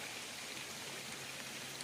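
Rain falling outdoors in the countryside, a steady, even hiss of drops pattering on surfaces, continuous and moderately quiet with no voices.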